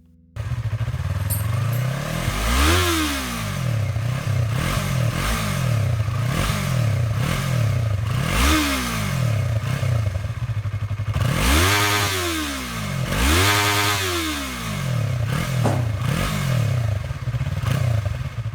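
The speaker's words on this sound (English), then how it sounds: "Let's hear the exhaust sound of this bike." A Yamaha YZF-R3 320cc sport-touring motorcycle exhaust revs repeatedly, rising and falling in sharp, loud throttle blips over a steady idle, with two big revs late on, close to the microphone and alone.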